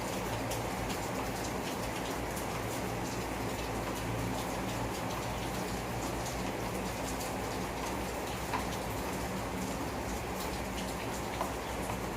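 Heavy rain falls steadily, a continuous hiss with occasional sharper drops and ticks, unbroken throughout.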